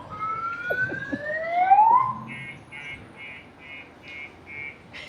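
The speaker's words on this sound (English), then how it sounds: "that alarm is the standard car alarm" A car alarm on a street in Arequipa, Peru cycles through its tones: rising and falling whoops, then a rapid series of evenly spaced electronic beeps, moderately loud and nearby.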